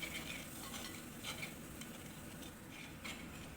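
Fenugreek and asafoetida powder sautéing in oil in a pan for ginger tamarind pickle, a low continuous frying hiss with faint stirring scrapes throughout, fairly quiet and with no voices.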